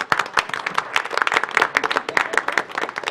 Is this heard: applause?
yes